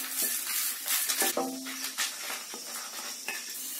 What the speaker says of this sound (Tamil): இப்ப இந்த தேங்காய் லைட்டா பொன்னிறமாகற அளவுக்கு வறுத்துடலாம்